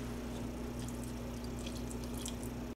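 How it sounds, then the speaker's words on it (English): Water poured into an Instant Pot over noodles, a soft continuous splashing trickle with a low steady hum beneath, faint and close, with no talking. "Just going to add a little bit of water."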